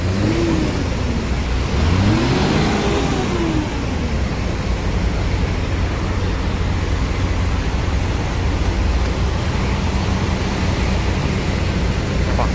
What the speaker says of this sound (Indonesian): bus jurusan Blitar diberangkatkan menuju ke Blitar